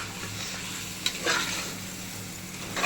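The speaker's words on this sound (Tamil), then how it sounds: "நம்ம ஊற வச்சிருக்கிற சிக்கனை இதில் மிக்ஸ் பண்ணிடலாம். கிளறி விடலாம்." Marinated chicken being stirred into masala in a pressure cooker, a steady low sizzle with a couple of scraping stir strokes near the middle, close and fairly quiet, no voices.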